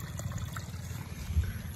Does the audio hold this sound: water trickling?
yes